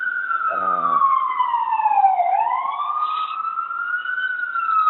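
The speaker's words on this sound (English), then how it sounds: "There's an ambulance" A loud wailing ambulance siren rises and falls in long sweeping tones, steady and continuous, passing nearby.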